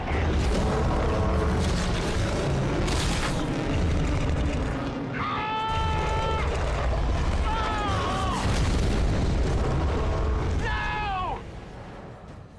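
Heavy weapon payload fired in a sci-fi film battle, dense booming blasts and rumbling explosions filling the scene, with wailing tonal effects layered over the thunder.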